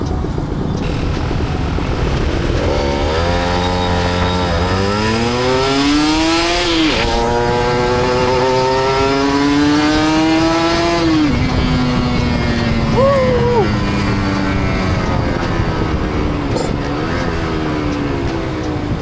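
A loud two-stroke motorcycle engine revs up through rising pitch sweeps, shifting and accelerating repeatedly, with a raspy buzzing tone close by and no talk.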